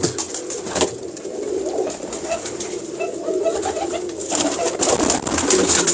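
Pigeons coo repeatedly at close range, soft throaty calls overlapping against a steady background hiss, with other bird sounds scattered through.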